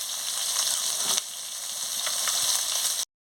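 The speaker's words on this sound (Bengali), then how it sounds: "এইভাবে লাল লাল করে ভেজে নিচ্ছি।" Rupchanda pomfret fish sizzling as it fries in oil, a steady close-up crackling hiss with occasional pops, cutting off abruptly at the end.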